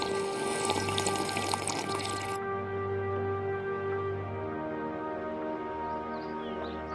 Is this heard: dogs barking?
no